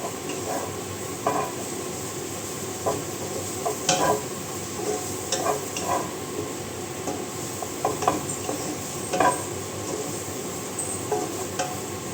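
Onion and garlic stir-frying with chana dal and mushrooms in a pan, a soft steady sizzle broken by intermittent scraping and clinks of a spatula stirring, fairly quiet and close.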